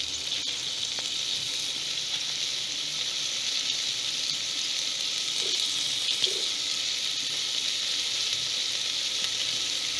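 Tomato and sprouted whole masoor lentils fry in a pan with a steady, close sizzle, with a couple of faint stirring scrapes partway through and no talk.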